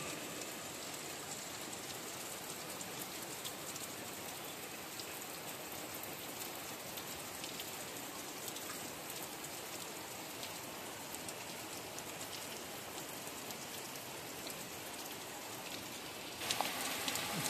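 Heavy monsoon rain pours steadily over a house in rural Konkan, a dense, unbroken hiss of drops on surfaces that stays loud and even throughout.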